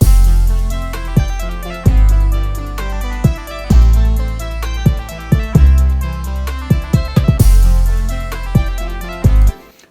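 Hip hop beat stacked from booming 808 bass hits, sharp snare cracks and quick ticking hi-hats in a looping groove, loud and up-front with no voices.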